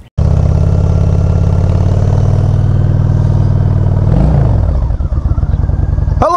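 A motorcycle engine starts and runs loud and close with a steady rhythmic idle, then revs briefly and settles back into an uneven idle.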